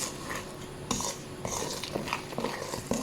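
Butter and sugar beaten gently for dahlia cookie dough, quiet close taps and scrapes of a whisk or spoon in a bowl, repeating in a loose rhythm without voices.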